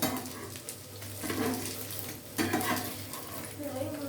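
Fried food sizzles quietly in a pan while pieces are turned one by one, with soft scraping and light clinks of a utensil over a low background hiss.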